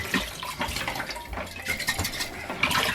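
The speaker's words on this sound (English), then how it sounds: "they need to be dipped in cold water just to rinse out, to get any of the soap that might be left over in the bottles" Wine bottles dipped and rinsed in cold water to clear out leftover soap, with continuous splashing, sloshing and gurgling close by, a few louder surges of water, and no talking.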